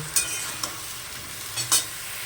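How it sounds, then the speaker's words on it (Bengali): Potato and other vegetables fry in a pan, a soft continuous sizzle broken by a few brief scrapes and clinks of stirring, close and fairly quiet, with no voices. "এগুলো সব দিয়ে ভালো করে আমি ভেজে নেব।"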